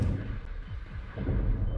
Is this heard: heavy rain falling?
no